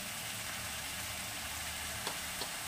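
Spiced potatoes fry in a pan for Bengali shahi aloo dum, freshly dusted with turmeric and salt. A steady low sizzle runs throughout, and two faint clicks of the stirring spoon come near the end, with no talk.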